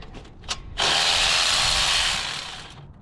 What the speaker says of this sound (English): you would invest in an electrical ratchet like this